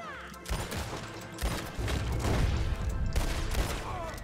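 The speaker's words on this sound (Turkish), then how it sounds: "O yüzden vurdum bunları." Gunfire in the video game Red Dead Redemption 2: loud, close bursts of rapid shots that overlap into a near-continuous volley, with short lulls between the barrages.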